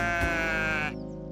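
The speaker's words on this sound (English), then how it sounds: "Baaing sheep." A single sheep gives one close, loud, drawn-out baa that cuts off abruptly, heard alone without talk.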